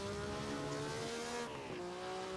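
A 1960 Grand Prix car engine drones steadily on Brands Hatch in a racing video game, with its pitch shifting abruptly midway as second gear is roughly crunched in.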